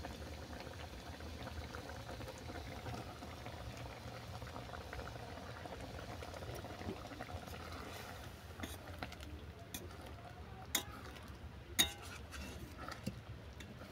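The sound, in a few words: chana dal with cauliflower boiling in a pot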